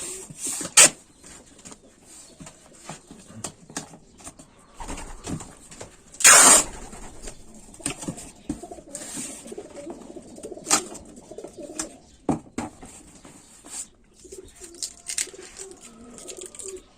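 Pigeons from Batangas cooing softly in a loft, low murmuring coos running through most of the stretch, with a few sharp knocks and clatters over it and no voices.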